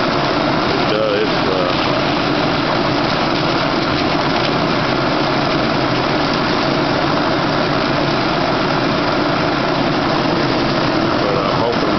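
A blower motor on a homemade solar heater runs steadily with a broad, constant whirring hum and rushing air noise, loud and unchanging for the whole stretch.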